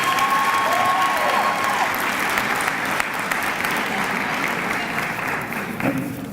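A sports banquet crowd gives a sustained round of applause, even and continuous for several seconds with a faint tonal hum and a few voices murmuring underneath.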